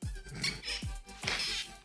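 Repeated short squeaks from the moving leg joint of a Voltron Legendary Yellow Lion toy, three sharp creaks at a steady pace with faint rustling between, close and fairly loud with no talk.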